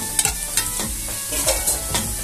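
Cumin seeds crackle in oil in a pot for palao while a spoon stirs them, giving several distinct scraping strokes over a continuous sizzle, close and alone.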